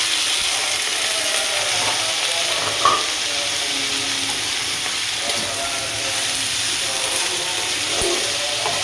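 Onion and potato, cut together, frying in a wok (karahi) for a bitter gourd and potato dish, giving a steady close sizzle with a few light scrapes and clicks of stirring, no voices.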